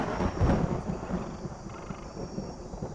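Rumbling thunder before a rainstorm rolls in a heavy low burst at the start, then fades into a steady dull grumble with wind-like noise.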